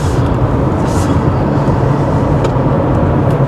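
A Honda CR-V or Toyota RAV4 taking a road corner, with a steady loud low engine and road rumble sounding close throughout, no voices over it.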